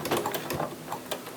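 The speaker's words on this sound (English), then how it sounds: "I'm just going to sew forward a few stitches, and I'm doing it really slow because there is quite a large bulk there" Domestic sewing machine stitching slowly forward through a bulky bag seam, a quick series of uneven mechanical clicks and thumps, close and moderately quiet, with no talking.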